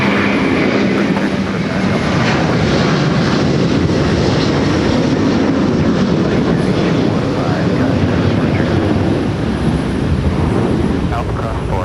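Delta Air Lines Airbus A330 heavy jet taking off at Minneapolis–St. Paul, a broad steady engine roar filling the whole stretch at constant loudness, with radio-style voices talking over it.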